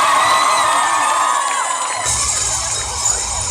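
A large crowd of school students at a rally cheers and shouts loudly and continuously, with high children's voices and whoops blending into one dense roar.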